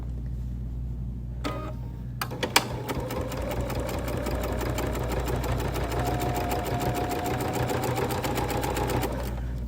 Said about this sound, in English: I'm going to sew those together